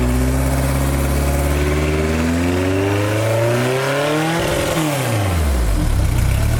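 A Ford Formula 2000 race car engine revs loudly and close by, its rich, chunky tone climbing in pitch as the throttle opens, then dropping back and rising again, with no talking.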